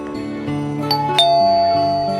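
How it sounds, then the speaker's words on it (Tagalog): A doorbell chimes a ding-dong over a steady musical tone, two bright strikes ringing out and fading, no talking. "Pindutin ko nga ulit itong doorbell."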